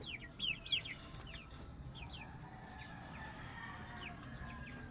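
Chickens cluck and chirp in short, scattered calls over a steady, noisy farmyard background, with a couple of louder calls near the start.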